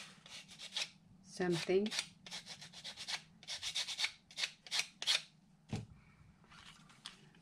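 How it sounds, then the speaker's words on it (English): Hand sanding of a Dollar Tree craft piece, steady rhythmic rubbing strokes at close range, with a brief spoken word partway through. "you just sand it if you need to remove"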